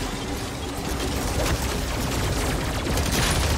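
Dense, continuous automatic gunfire from the BAL-27 rifle in the Call of Duty MW3 Zombies video game, a steady loud fusillade of rapid shots that keeps going for the whole stretch without pause.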